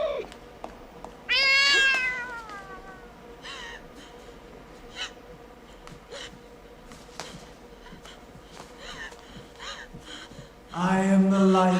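A black cat from a film meows in two loud, drawn-out bursts, one early and one at the end, over a quiet, eerie soundtrack.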